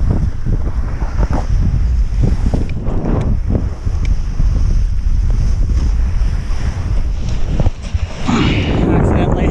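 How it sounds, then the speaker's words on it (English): Strong wind buffeting a microphone at the shore during a kitesurfing session, a loud continuous rumbling roar with gusty surges and surf wash underneath, no clear speech. "the wind finally came into shore, so looks good for sure"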